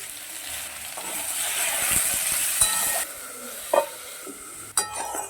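Potato pieces seasoned with turmeric and salt fry in hot oil in a wok with a bright, steady sizzle, broken by a few close clatters of stirring.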